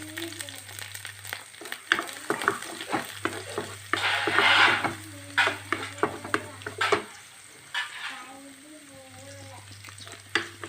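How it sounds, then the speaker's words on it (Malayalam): Chopped ginger, garlic and green chillies fry in hot coconut oil in a pot, a close sizzle with a surge of hissing spatter midway, spoon scrapes and knocks throughout, and a soft low hum underneath. "നമ്മുടെ പാത്രത്തിലേക്ക് നമുക്ക് വെളിച്ചെണ്ണയൊക്കെ ഒഴിച്ച് ചൂടായിട്ടുണ്ട് ഇച്ചിരി ഇഞ്ചിയും വെളുത്തുള്ളിയതാണ്"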